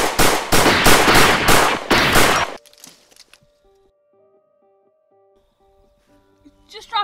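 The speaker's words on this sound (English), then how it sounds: "I'm already getting fired at." A loud burst of rapid automatic gunfire rattles in a quick rhythm during a sci-fi action scene, then cuts off into near silence broken by a faint electronic beeping and a brief clatter at the end.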